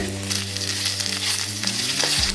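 Curry leaves, garlic and shallots sautéing in a pan give a steady, bright sizzle with a low hum beneath it, continuous and fairly loud from start to finish.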